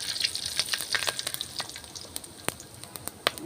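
Cumin seeds and bay leaves spitting in hot oil, a steady soft sizzle broken by sharp crackling pops, close and fairly quiet, with no voices.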